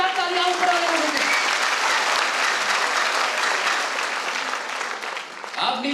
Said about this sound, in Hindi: ऊपर बैठे भाइयों इतनी जोर से ताली बजाओ कि नीचे वाले सोचे यार हमने कैसी ताली बजाई।